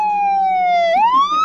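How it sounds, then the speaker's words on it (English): A police siren sweeps from a long high held tone down and then rising again, loud and close, heard alone with no voices over it. "I hear a police siren!"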